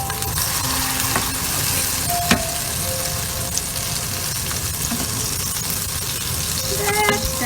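Red kidney bean kebabs shallow frying in a pan of oil, a steady soft sizzle and crackle running throughout with occasional small pops, moderately close and with no voices.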